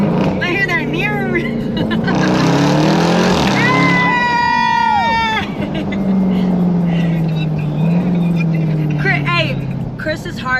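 Jeep Trackhawk engine revving with a supercharger whine rising and falling, loud and close inside the vehicle, with people talking and shouting over it.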